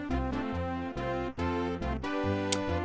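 Roland MT-32 emulated synthesized music from the DOS game The Colonel's Bequest, with a loud, dense, rhythmic bass-heavy phrase of repeated chords and notes, steady and continuous with no voices.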